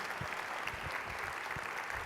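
An audience at a government innovation talk applauds a departing colleague finishing her term, the clapping dense, even and somewhat distant, with no voices over it.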